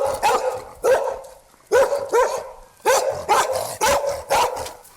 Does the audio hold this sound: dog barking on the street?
yes